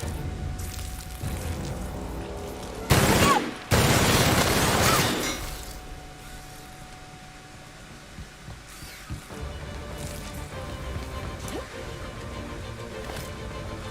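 A gun fires in The Outer Worlds, with one sharp loud burst and then a longer blast of gunfire close by, set against quiet mechanical clicks and ambient game noise.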